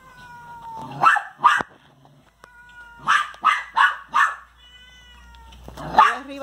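A small cat is fighting and crying, giving a string of wailing meows: a pair, then four in quick succession, then one more, close by with quiet gaps between.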